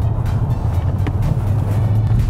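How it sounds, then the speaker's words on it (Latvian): A car driven by a learner in busy Riga traffic drones loudly and steadily from inside as the engine is given gas in second gear, with no voices. "Un tagad ritīgi gāzi un otro ātrumu."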